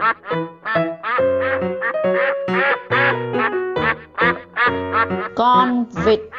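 Ducks quacking loudly and close, a rapid run of harsh nasal quacks in uneven bursts with brief gaps, several birds overlapping, no talk.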